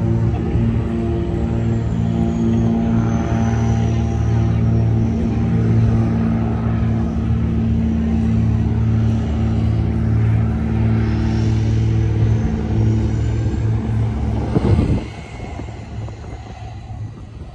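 A propeller airplane passes over Vancouver, its loud droning engine hum holding steady for a long stretch before dropping away sharply near the end.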